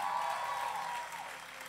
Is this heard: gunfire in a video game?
no